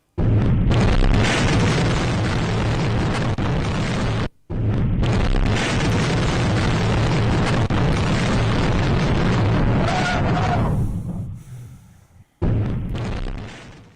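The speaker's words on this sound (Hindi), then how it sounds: "वॉर जोन की ये तस्वीर है जहां अज़ोव रेजिमेंट ने एंटी टैंक मिसाइल से रूस का टैंक" A loud, sustained blast from an anti-tank missile striking a Russian tank in war footage, roaring continuously with two abrupt cuts, then fading away near the end with no talk.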